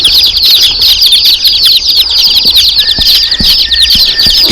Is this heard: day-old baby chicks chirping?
yes